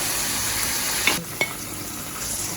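Onions and other vegetables sauté in a pan for Caribbean saltfish, a close, steady sizzling hiss with a brief dip and two quick taps near the middle, heard alone with no voices.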